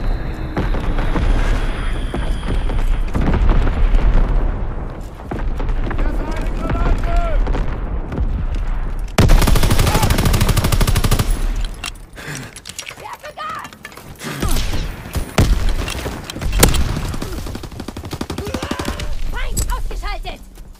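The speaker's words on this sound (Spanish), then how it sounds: "Fuego de artillería." Video game artillery barrage and bomb drops, with dense rumbling booms, a sharp loud explosion burst partway through, and continuing blasts and mechanical clatter, game voice lines heard over the fighting.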